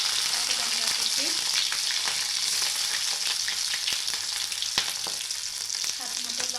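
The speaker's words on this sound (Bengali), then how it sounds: "একটু কালো জিরে দিলাম, পেঁয়াজ আর কাঁচা লঙ্কা কুচি," Nigella seeds, chopped onion and green chilli sizzle steadily in hot oil for a Bengali fish curry, a dense continuous frying hiss with occasional stirring scrapes, close and fairly loud, no talking.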